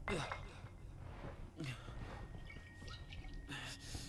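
Medical solution sprayed onto a leg in the survival horror game Resident Evil 7: a few short hissing spray bursts with light liquid drips and clinks. Someone talks over the sounds.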